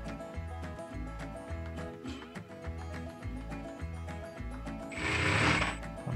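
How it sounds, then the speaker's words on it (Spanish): Sewing machine stitching the edge of a baseball shirt, a steady close mechanical thumping at an even rhythm with no talking. "Vamos cosiendo sin estirar el de abajo ni el de arriba, dejando que la máquina haga su trabajo."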